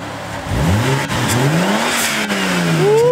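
A high-boost Toyota Supra engine revs hard up close, its pitch climbing and dipping through several loud, rising sweeps with a continuous throaty roar.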